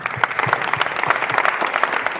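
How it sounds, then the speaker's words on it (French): An audience applauds at a live show, a steady burst of clapping from many hands that carries close and fairly loud without a break. "Je vais saluer Grâce, on peut applaudir pour lui aussi, non?"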